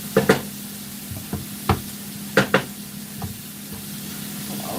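Shrimp with garlic and green onions sizzles in a pan, a low steady fry hiss broken by several sharp knocks and stirring clatters spaced irregularly across the clip.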